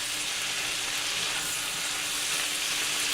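Peppers and onions for a western omelette sizzle steadily in a hot pan, a loud, continuous crackling hiss with no pauses and no voices.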